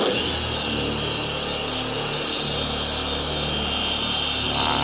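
A car body polishing machine running at its lowest speed setting, spreading polish roughly over the paintwork: a steady, continuous whirring hum with broad airy noise, close and unbroken, no talk.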